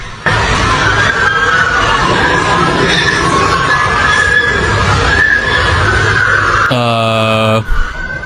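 Shrill screaming from a crowd in an online video carries on loud and continuous for several seconds, a dense wash of high voices, then breaks off into a short tonal burst.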